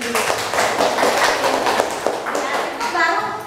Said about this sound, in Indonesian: Nah, tepuk tangan dulu berdua sendiri.